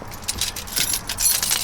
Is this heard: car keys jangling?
yes